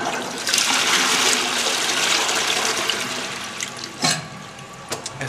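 A toilet flushes, loud and close, with a rushing burst of water that gradually tapers off into quieter gurgling and trickling as the tank refills.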